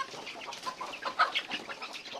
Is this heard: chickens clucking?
yes